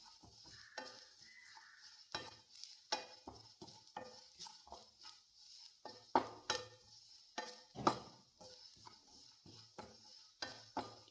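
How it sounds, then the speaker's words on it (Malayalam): A spoon scrapes and stirs grated coconut roasting in a pan for a pomfret fish curry, with irregular clinks and scrapes over a faint dry sizzle, close and moderately loud, no voices. "ചെറുതായിട്ട് ഇങ്ങനെ മൂത്ത് വരുന്നുണ്ട് ഇങ്ങനെ ഇളക്കി കൊടുത്തുകൊണ്ടിരിക്കുക"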